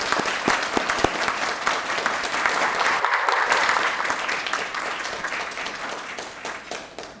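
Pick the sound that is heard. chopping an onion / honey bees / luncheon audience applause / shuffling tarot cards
luncheon audience applause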